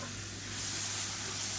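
Finely chopped onion for a tomato-garlic thokku hits hot oil in a pan, giving a steady, close, moderately loud sizzling hiss that swells a little as it settles.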